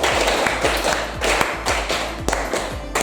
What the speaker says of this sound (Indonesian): Tepuk tunggal, tepuk tunggal, tepuk ganda, tepuk lima.